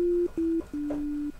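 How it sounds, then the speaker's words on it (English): Steady sine tones from a blank EXS24 sampler patch with no samples loaded, three sustained notes played on keys, pure and fairly loud, the last held longest, with no talk. "a sine wave. There's no samples been loaded up."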